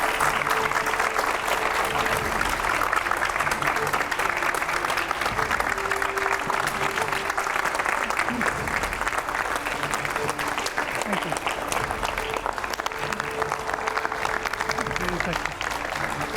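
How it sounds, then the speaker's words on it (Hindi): Steady audience applause welcoming a politician onto a studio set, dense continuous clapping lasting well over fifteen seconds, with voices and music faintly beneath. "जोरदार तालियां तेमजिन इम्ना ओलोंग के लिए"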